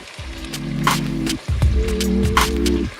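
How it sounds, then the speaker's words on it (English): Chopped tomatoes hit a pan of browned onions and Scotch bonnets cooking for a Ghanaian egg and sardine stew, giving a steady close sizzle in two bursts over a low hum. "So I'm now going to add in my chopped tomatoes."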